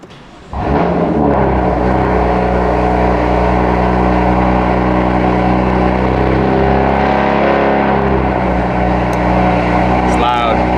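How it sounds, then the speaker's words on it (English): A BMW F80 fires up from a cold start with a sharp catch, then settles into a loud, deep, steady idle heard close up, with faint voices near the end. "let's do a cold start"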